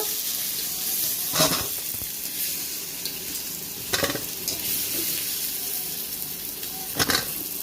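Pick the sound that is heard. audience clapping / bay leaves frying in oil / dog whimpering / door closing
bay leaves frying in oil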